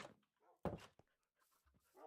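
Minecraft puppies panting in the video game, with soft breathy huffs and a few brief whimpers at low volume and no talk over them.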